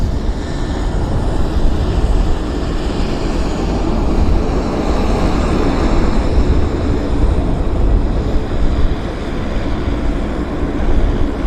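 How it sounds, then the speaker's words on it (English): An Air Canada Boeing 787 Dreamliner, flight 114 to Toronto, departs Vancouver Airport, its steady, loud, broadband jet roar holding evenly throughout with no voices. "this is Air Canada's 114 off to Toronto, Dreamliner"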